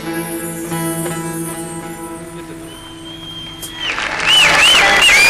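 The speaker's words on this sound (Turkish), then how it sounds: "çok teşekkür ediyoruz o güzel alkışlarınıza" Audience applause breaks out at a Turkish folk performance with saz, rising loudly near the end as the last sustained notes of the song fade out.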